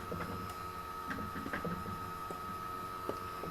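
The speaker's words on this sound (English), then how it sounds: "I am winding up the bobbin so I have all white thread." A sewing machine winds white thread onto a bobbin, a quiet, steady mechanical whir with a constant hum and small rhythmic ticks and clicks throughout.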